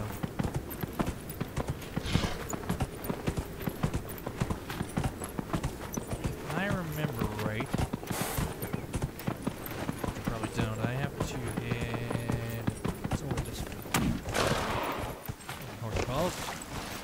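Horse hooves clip-clop in a steady, continuous rhythm while riding across a farm area in the video game Dragon Age Inquisition, with someone talking over the hoofbeats throughout.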